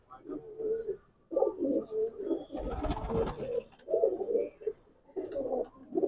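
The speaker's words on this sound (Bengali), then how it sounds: "প্রচুর পায়রা হয়ে গেছে, চাপ হয়ে গেছে অনেক" Madrasi pigeons coo in low, rolling bursts inside a crowded loft, several birds calling in overlapping phrases at close range, with a brief noisy rustle partway through.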